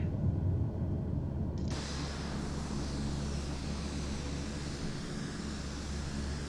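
A Captain Sim C-130 lifts off and climbs in Microsoft Flight Simulator, its engines giving a steady, even roar with a hiss that brightens partway through. No voices or other sounds come through.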